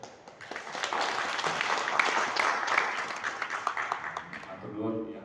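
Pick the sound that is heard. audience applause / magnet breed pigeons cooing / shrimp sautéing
audience applause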